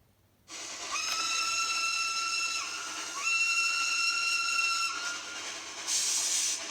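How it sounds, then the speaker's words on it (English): A steam train whistle sounds in two long, steady, multi-toned blasts with a short gap between them, over a constant hiss of steam, ending with a brighter burst of steam. "So, steam train sounds."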